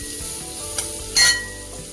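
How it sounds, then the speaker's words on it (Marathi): Chopped onion with asafoetida and a pinch of turmeric frying in a pan for a safflower-leaf vegetable dish, a steady close sizzle with a brief utensil scrape and a louder hiss burst midway. "हिंग, कांदा. आता कांदा व्यवस्थित परतून घ्यायचा."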